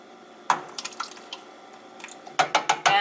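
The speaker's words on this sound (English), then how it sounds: "we're going to add a whole can of coconut milk" Coconut milk from a whole can is poured into a pot of shrimp and cabbage soup, giving glugging, splashy pours and drips, a burst at the start and another series of wet plops near the end, close up.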